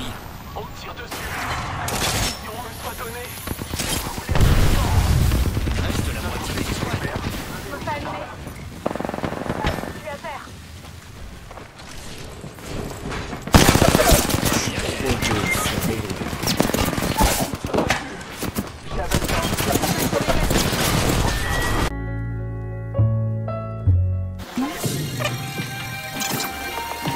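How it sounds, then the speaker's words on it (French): Rapid gunfire in the battle royale game Apex Legends, with dense bursts and crackling volleys filling most of the stretch. The shots come loud and close, with a voice talking over them, and there is a brief lull near the end. "On tire dessus, les amis. On tire dessus."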